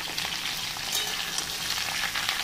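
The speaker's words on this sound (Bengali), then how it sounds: "তেজপাতা, 5 ফোড়ন, সবজি দিয়ে দিয়েছি।" Vegetables fry in hot oil with bay leaf and five-spice tempering for a Bengali shukto, giving a steady, dense sizzle that stays loud and even throughout, with no talking.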